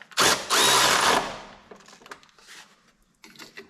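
A power tool drives bolts tight on an Exmark Quest zero turn mower, with two loud, close bursts of whirring at the start, then fainter clicks and clunks of the socket and metal parts.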